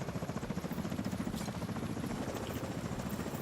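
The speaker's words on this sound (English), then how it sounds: "The chopper." A helicopter in the video game The Division thrums loudly and steadily, its rotor pulsing in a fast continuous beat with no talk over it.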